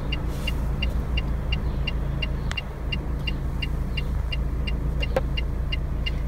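A car drives through a city, heard from inside the cabin as a steady low road rumble and engine hum, with a faint repeating tick, likely a turn signal, running throughout and no talk.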